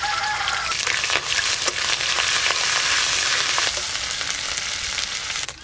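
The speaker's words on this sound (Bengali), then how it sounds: "গোটা গরম মশলা ফোড়ন করে নেব। ফোড়ন তো হয়ে গেল, এবার আদা রসুন বাটা দেব।" Ginger-garlic paste fries loudly in oil with whole spices for a village-style prawn malai curry, giving a dense, continuous close-up sizzle with occasional stirring crackles and no talking.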